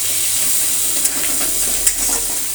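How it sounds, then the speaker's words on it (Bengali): Onion frying in hot oil with cumin seeds and dried red chillies, a steady dense sizzle with a couple of small pops, fairly close and loud throughout. "এবার ভালো করে পেঁয়াজটা ভেজে নেব।"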